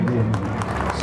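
Audience applause during an honouring ceremony on the final day of a mahayagya in Gohana, with steady close clapping from the crowd under a man's loud speech.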